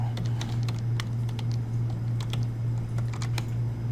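Keystrokes patter on a computer keyboard in quick irregular bursts of light clicks, close and clear over a steady low hum, with no talking.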